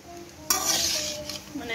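Leftover rice frying and being stirred in a pan, with a sudden burst of broad sizzle about a third of the way in, then steady scraping and stirring close by with a few utensil clinks.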